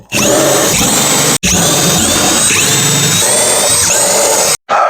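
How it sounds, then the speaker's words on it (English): Power drill boring through wood outdoors while building a mobile ready room, a loud continuous whining drive with pitch sweeping as the bit bites, broken by a brief stop midway and cutting off near the end. "I'm just following those holes and drilling on this side."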